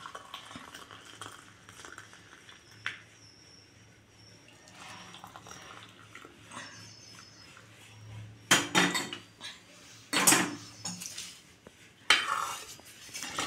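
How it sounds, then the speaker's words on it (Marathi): Boiled masala tea strained into cups, heard mostly as a low background with a few sharp, loud clinks and clatters of the strainer and cups near the end. "इथे आपण कपामध्ये गाळत आहे चहा।"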